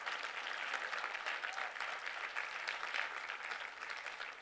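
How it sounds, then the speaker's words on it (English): A large audience applauds a devotional music team at a Guru Poornima gathering, a steady, even wash of many hands clapping that stays faint and distant throughout, with no voices over it. "How about a big round of applause for a very creative devotional team here?"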